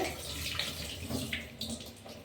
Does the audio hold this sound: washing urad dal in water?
yes